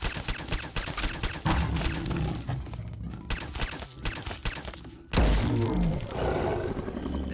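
Rapid .22 pistol shots from a modded weapon in Fallout 4, a dense run of sharp gunfire with a brief pause before another loud volley, with game sounds and no talking.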